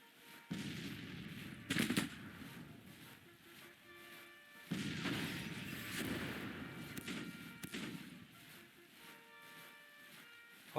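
Artillery and gunfire in the Civil War strategy game Grand Tactician, a few heavy booming blasts and sharp cracks over a steady battlefield rumble, with no voices.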